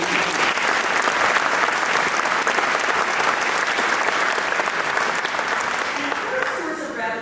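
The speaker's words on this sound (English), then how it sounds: "We'll do a little round of applause in that whole group." Sustained crowd applause, fairly loud and even, thinning slightly toward the end as the clapping begins to die down.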